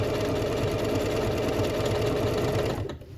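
A Singer Confidence 7640 sewing machine sewing a specialty stitch whirs in a fast steady mechanical rhythm, loud and close, stopping abruptly near the end.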